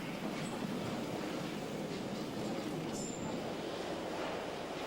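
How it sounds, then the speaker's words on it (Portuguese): London Underground train running along the tracks, a continuous broadband rumble and rattle of wheels with a brief high squeal partway through, steady and fairly close, no voices. "Este é o Underground de Londres, que é o maior e mais antigo sistema de metrô do mundo."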